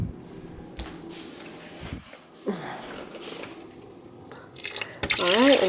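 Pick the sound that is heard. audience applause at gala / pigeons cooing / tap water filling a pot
tap water filling a pot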